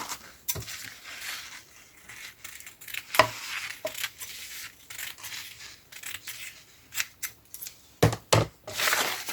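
Scissors snip through craft material for a handmade end-of-year teacher gift. The cuts come as sharp, close clicks and crunches in irregular bursts, with quiet handling noise between them and no talking.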